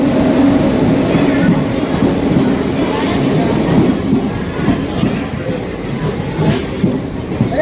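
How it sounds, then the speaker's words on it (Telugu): A passenger train rolls loudly into a station at close range, its wheels clattering in a steady, continuous rumble that fills the whole stretch, with faint voices of waiting travellers mixed in the background. "ఫైనలీ ట్రైన్ అయితే వచ్చేసింది."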